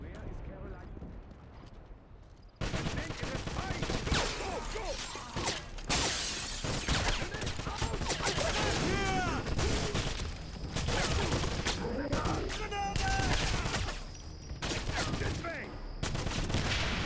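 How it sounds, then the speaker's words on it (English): Enemy gunfire in Wolfenstein (2009) on PC crackles in repeated sharp bursts and rapid volleys, with clattering impacts and shattering mixed in, loud and sustained over most of the stretch. "somebody was shooting me from behind through there"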